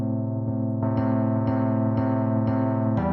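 A Scarby Mark 1 bass synth, its severe EQ switched off, plays a brighter sustained low line with regular half-second pulses and crisp attacks, loud and alone without talk.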